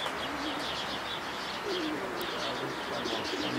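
A racing pigeon coos softly and repeatedly near a loft during a winter race arrival, over a constant outdoor background hiss with faint chirps.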